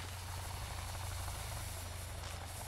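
Helicopter in the video game Sons Of The Forest, a steady low rotor drone with engine hum and no speech over it.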